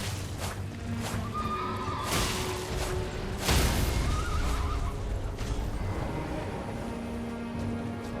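A horse in the Elden Ring video game whinnies loudly and clearly over continuous game sound, with a brief rushing burst in the middle.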